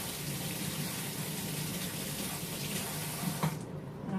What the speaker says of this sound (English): just rinse this spoon real quick